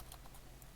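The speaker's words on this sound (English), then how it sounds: "I'm typing in dual" Keys tapped on a computer keyboard while entering commands in a Minecraft command block game session, giving three or four quiet clicks in under a second against a low background hum.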